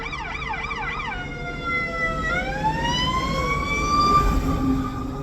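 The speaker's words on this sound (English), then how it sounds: "Fire truck." A fire truck siren passes nearby, first a rapid warbling yelp, then a long wailing tone sweeping up and holding high, loud and clear over low traffic rumble.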